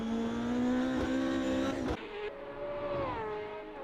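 Race car engine in a sim racing video game, a loud, sustained high-pitched drone that climbs, cuts sharply near the midpoint, then resumes and shifts pitch through gear changes.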